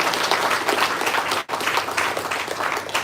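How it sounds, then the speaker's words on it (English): Applause from an audience at a Rotary peace day gathering, dense and steady throughout with a brief dip near the middle before resuming at full strength. "Can we give a big round of applause for this gathering"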